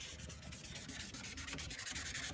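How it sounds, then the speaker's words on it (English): Sandpaper rubs back and forth along the top edge of a yellowed plastic headlight lens, a steady close scratchy rasp with quick repeated strokes and no talk. "So I'm just cleaning this top edge here with my sandpaper"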